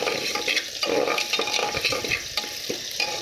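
Mung dal being stirred and fried in a pressure cooker, a close, continuous scraping and rustling with a soft sizzle underneath, rhythmic strokes repeating every half second or so.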